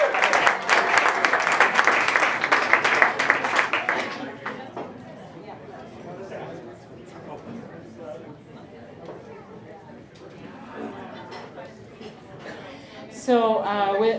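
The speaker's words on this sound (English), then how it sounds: "So a big round of applause for our second half and Vanessa," Audience applause for a performer, loud dense clapping for the first four seconds, then fading into quieter room chatter and murmur, with a brief bright burst near the end.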